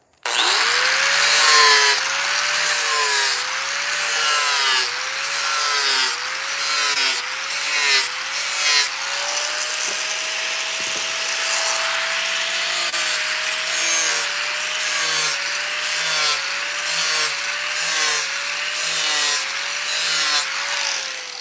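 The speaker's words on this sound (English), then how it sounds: "I'm gonna gouge it and then go back and burn it again" A power gouging tool cuts into a wooden sign on a chainsaw-carved highland cow, a loud, close, continuous motor whine that rhythmically dips and rises in pitch as it bites into the wood.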